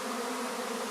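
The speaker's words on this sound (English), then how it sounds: "look at the bees" A swarm of bees in May hums in a dense, steady drone, loud and close, with no voices, over under a second.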